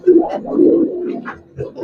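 Pet pigeons, Giribaz and colored fancy breeds kept at a home loft, give low, throaty coos in short repeated bursts, fairly close, with some background chatter mixed in.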